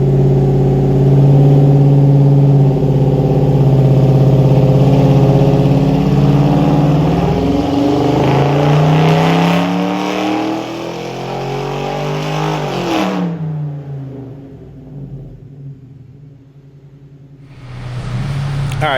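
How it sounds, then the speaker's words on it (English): A car engine roars loudly at wide-open throttle during a dyno pull, pitch climbing steadily, then drops off and idles before revving up again at the end. "I do have the dyno set up for some wide open throttle pulls."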